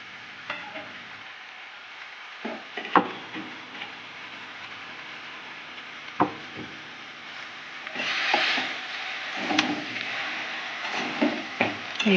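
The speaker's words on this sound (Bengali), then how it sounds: "এইভাবে নাড়তে থাকবো।" A spoon stirs thick elephant-apple pickle with jaggery in a pan: intermittent scraping sweeps and soft knocks, close by, with a gentle bubbling sizzle growing louder toward the end.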